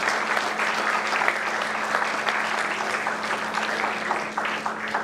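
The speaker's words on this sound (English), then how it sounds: "Please have a huge round of applause for our dignitaries." A hall audience claps for dignitaries at a coding-contest ceremony, sustained even applause with a faint steady hum beneath, no speech over it.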